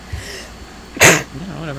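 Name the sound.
sneeze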